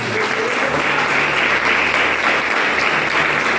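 A church congregation claps in praise, a dense, continuous wash of applause sustained at even loudness from start to finish, with a faint low hum underneath.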